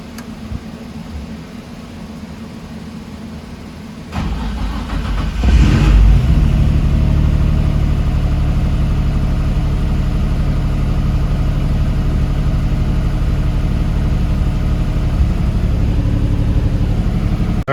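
Turbocharged VQ35DE engine in a Nissan 300ZX, first idling quietly, then starting and settling into a loud, steady, sustained roar, heard alone without talk.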